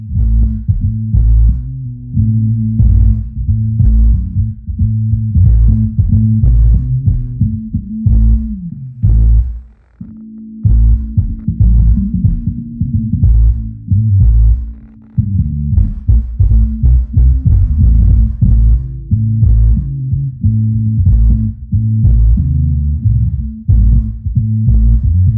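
A Bose Sub2 subwoofer plays a bass-heavy track loudly, its deep thumping low end pulsing in a steady rhythmic beat that fills the whole stretch, with a couple of brief dips and no talking.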